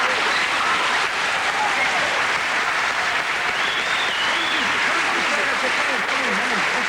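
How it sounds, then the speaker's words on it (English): Live TV studio audience applauds heartily during a comedy variety show, a dense, steady roar of clapping holding loud and even throughout, with faint higher whoops or tones drifting above it. "Give her a big round of applause."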